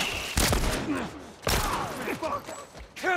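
Gunfire from The Last of Us Part I, with a few sharp close shots in quick succession, separated by bursts of mechanical clatter and distant in-game voices and movement.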